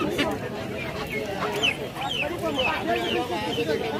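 Chickens cluck and squawk at a busy duck and chicken market, with repeated short calls rising over a constant crowd murmur and nearby voices.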